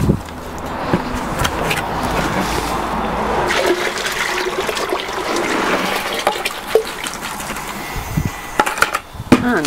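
Liquid soil sample, rich in charcoal, is poured into a container, a continuous watery trickle and slosh with occasional knocks and clinks, close and fairly loud.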